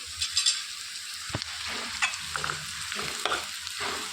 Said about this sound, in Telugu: ఈ ఆనియన్స్ అనేవి బాగా రంగు వచ్చే వరకు వేయించుకోవాలండి